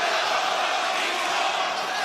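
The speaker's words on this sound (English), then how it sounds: "You can hear the 50-50 split between the raucous crowd here in Atlanta." A large arena crowd roars at a live AEW wrestling show in Atlanta, a dense, steady wall of cheering and shouting that stays loud and continuous throughout.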